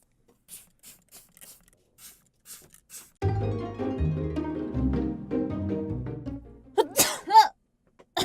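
Light scratching taps lead into a stretch of muffled sound, then a single close, sharp sneeze bursts out near the end.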